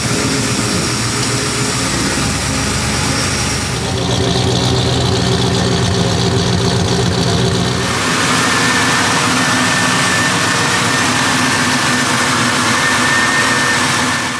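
A small block Chevy V8 with a GM serpentine belt drive idles steadily to warm up, a continuous close engine rumble with a shift in tone partway through and no talking.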